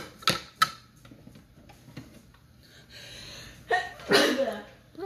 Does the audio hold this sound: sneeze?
yes